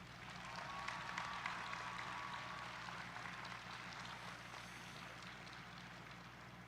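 A graduation ceremony audience applauds as a continuous wash of many hands clapping, distant and faint, holding steady throughout without any talking.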